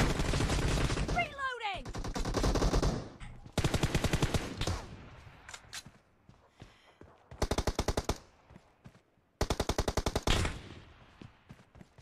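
Gunfire in a PUBG Mobile team deathmatch: loud automatic bursts come in several separated volleys, with quieter single shots and game sounds between them and no speech.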